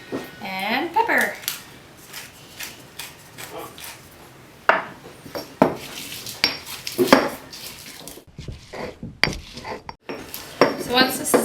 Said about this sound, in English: put them all in this mortar and pestle and grind it up really well